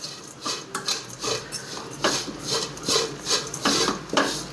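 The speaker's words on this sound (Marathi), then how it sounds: "आता त्याच तुपाच्या ह्याच्यामध्ये खोबरं टाकून घ्यायचं चांगलं असं मिक्स करून घ्यायचं खोबरं थोड्या वेळ परतून घ्यायचं चांगलं" Grated coconut is stirred and roasted in ghee, a spatula scraping and rubbing against the pan in a regular rhythm of short, close strokes, about two per second, with no voices.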